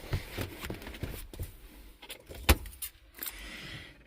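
Car keys jangle and clink close by while someone climbs into a 1999 Saab 9-3, with a sharp metallic rattle midway amid soft rustling and thumps inside the cabin.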